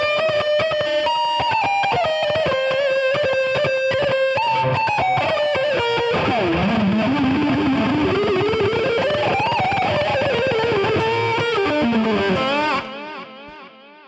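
An electric guitar played through heavy distortion and effects: sustained, saturated notes, then a wide sweeping bend that wavers up and down, loud and continuous before cutting off near the end.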